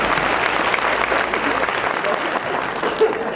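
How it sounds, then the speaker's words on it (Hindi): An indoor crowd at a railway workers' association felicitation ceremony breaks into sustained applause, a dense and even wash of clapping that keeps going for the whole stretch, with faint voices mixed in. "ताली बजा दीजिए आप"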